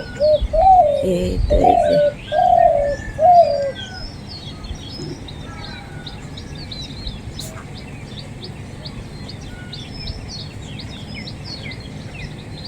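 Morning dove cooing, a few repeated soft hooting phrases up front, followed by a steady wash of small birds chirping and twittering in the background; a person speaks briefly amid the calls.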